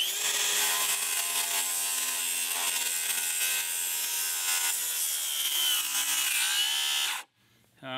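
A DeWalt DCS573B cordless track saw plunges into and rips through wood with a loud, steady whine and rasping cut lasting several seconds, ending abruptly as the blade stops.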